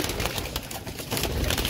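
Pigeons kept as prized fancy birds, red-eyed Kamangar pigeons among them, cooing softly and continuously at close range, with a steady low murmur throughout.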